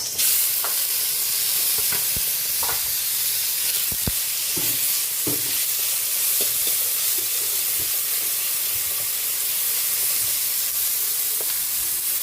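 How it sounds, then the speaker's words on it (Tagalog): Onion and tomato sautéing in a pan for ginisang munggo, a steady close sizzle with occasional clinks of a utensil stirring, no one talking. "Lagay na rin natin yung sibuyas. Lagay na rin natin yung kamatis."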